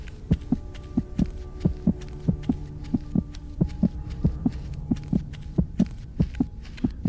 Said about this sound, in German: Oder wenn der Herzschlag irgendwie schneller wird, die Richtung ändert.